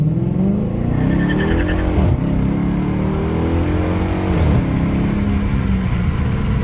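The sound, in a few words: Dodge Charger accelerating 0-60 with wheel hop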